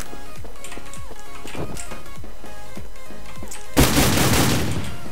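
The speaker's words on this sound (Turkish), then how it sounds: "50 metreden adama headshot attım" Gunfire in an online shooter video game: a quick series of sharp shots and impacts, then a louder burst of firing near the end, with game background sounds behind it.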